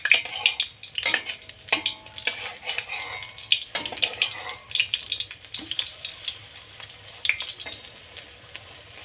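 Pieces of pointed gourd (potol) fry in oil in a pan, with a continuous sizzle and repeated scraping and clinking of a spatula as they are stirred, close and fairly loud.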